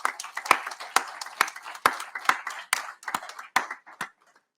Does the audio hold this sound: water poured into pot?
no